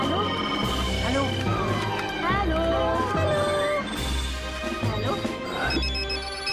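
A mobile phone rings in a cinema, a loud, insistent melodic ringtone repeating in rapid bursts close by, with a voice talking over it.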